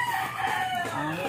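Backyard chickens make a brief burst of clucking and fowl calls outdoors near a cooking area, layered over a busy, noisy background.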